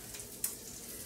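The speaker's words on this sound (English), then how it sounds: "oh man, I can hear that sizzling." Garlic frying in butter in a pan while cooking lemon garlic pork chops, a quiet steady sizzle with one brief sharper crackle partway through and no voices.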